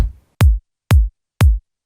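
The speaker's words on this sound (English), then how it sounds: "a high kick layer, so the kick cuts through the mix a little bit more" Three deep, punchy layered electronic kick drum hits, evenly spaced, each with a crisp high click from an added high kick layer on the attack and a short booming tail.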